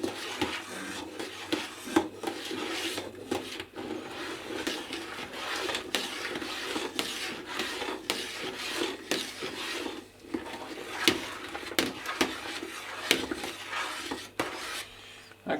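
Liquid malt extract stirred into a homebrew pot, a soft scraping and rubbing of a spoon against the metal with faint knocks, continuing steadily and close at hand without talk.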